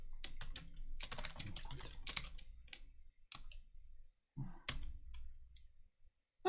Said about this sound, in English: I'll type it again.